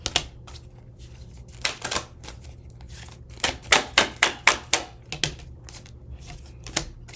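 Tarot cards being shuffled by hand, with bursts of sharp riffling flutters and taps in uneven clusters, close and fairly crisp, with quieter gaps between.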